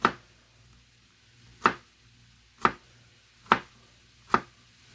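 Five sharp knife chops through an onion on a cutting board, evenly spaced about a second apart, close and crisp against a quiet kitchen background with no talking.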